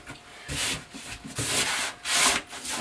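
Wallpaper is pressed and smoothed onto a wall by hand in a very small room, heard as soft, close rubbing swishes that come in a few broad, rhythmic sweeps.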